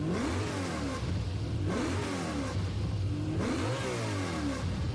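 A BMW M3 car engine revs repeatedly, rising and falling in pitch in three loud surges, close and throaty with no talking.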